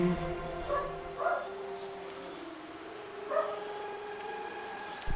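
A dog recovering from surgery gives a few short whimpering yips and barks, spaced apart, over a quiet room with a faint voice at the start.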